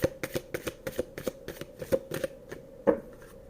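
Tarot cards being shuffled, a quick run of crisp riffling flicks in an irregular rhythm, close and fairly quiet, with no talk.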